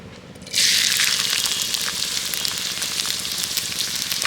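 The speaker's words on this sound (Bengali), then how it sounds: "এবার তেলের মধ্যে দিয়ে দিচ্ছি পেঁয়াজ কুচি" Chopped onion dropped into hot oil in a wok bursts into a loud, steady sizzle that continues without a break, close by.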